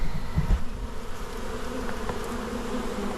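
A honey bee swarm fanning, a dense, steady buzzing hum of many bees at close range, continuous and even throughout, with no voices.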